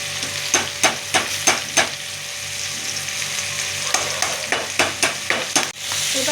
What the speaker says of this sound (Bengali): এবার আমি কাঁঠালটা একটু ভেজে নিচ্ছি।